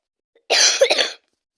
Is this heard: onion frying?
no